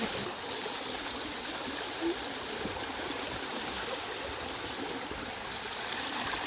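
Steady rushing of flowing stream water during heavy rain and stormy weather, a continuous broadband wash that stays even and close throughout with no voices over it.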